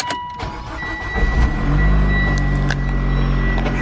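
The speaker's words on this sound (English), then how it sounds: "And let's turn this car on." A Mitsubishi Lancer Ralliart starts up with a short cranking whir, then catches into a steady low idle that continues close by, with no talk.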